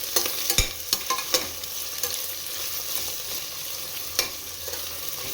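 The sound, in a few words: onions frying in a pan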